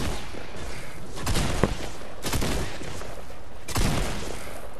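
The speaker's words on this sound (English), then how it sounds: "I'm shooting this man with a purple tank and I'm missing every shot." Fortnite gunfire from a firefight, with several loud bursts of shots around a second and a half, two and a quarter and three and three-quarter seconds over a steady background of game noise.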